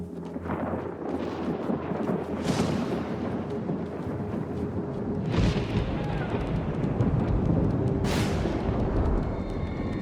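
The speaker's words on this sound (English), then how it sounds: "A bolt of lightning has struck one of the island's trees and started a fire." Thunder from a lightning strike on an island in the survival video game AWAY: The Survival Series, rolling low booms with three sharp bursts spread across a continuous rumbling background, fairly distant and moderately loud.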